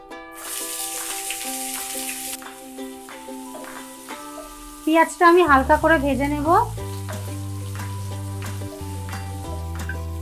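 Chopped large onion drops into hot oil with a bay leaf for chana masala, giving a bright sizzle at first. Background music with melodic tones plays over and under the frying.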